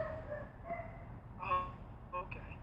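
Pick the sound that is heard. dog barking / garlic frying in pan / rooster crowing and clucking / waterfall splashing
dog barking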